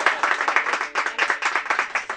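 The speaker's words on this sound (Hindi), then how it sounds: "भाई वाह ताली बजाओ" Several people clap their hands in quick, rhythmic, evenly spaced claps, close and fairly loud, forming a short run of applause.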